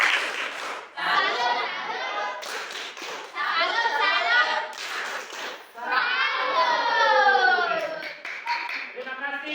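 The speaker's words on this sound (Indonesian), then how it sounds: "Tepuk salut." A classroom of children performs the rhythmic tepuk salut salute clap, bursts of patterned hand claps mixed with their chanting voices, loud and close, with a teacher's voice leading.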